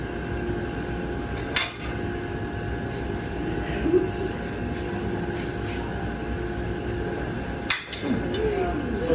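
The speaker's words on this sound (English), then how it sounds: "So see how brittle that is? Very easily broken." Brittle, hardened martensite steel snaps apart in two sharp, brief cracks several seconds apart, close and distinct over a steady low background hum.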